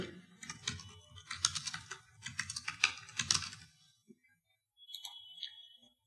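Rapid typing on a computer keyboard while a web form is coded, with dense bursts of clicky keystrokes for about four seconds, a pause, then a few lighter clicks near the end; no talking.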